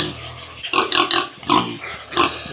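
Piglets eating starter feed at feeding time give short, bunched grunts and snorts in quick bursts, close by, with no talk.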